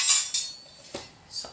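Stainless utensils, knives and a spatula from an auction box, handled in a few sharp metallic clinks and clatters spaced apart, close by with no talk.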